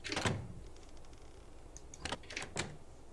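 A door opening and then closing in the horror video game From Day To Day, heard as a few short mechanical thunks and rattles spread across a few seconds, fairly close and distinct.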